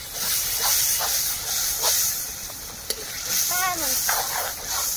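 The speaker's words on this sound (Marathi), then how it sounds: "आता टाकूया दही, आता हलवून घेऊया, हलवून घेऊया" Chicken biryani cooking in a pot on a wood-fired clay stove, with a steady hiss and simmer and soft scraping as yogurt is stirred in; a brief bird call and faint background voices come through.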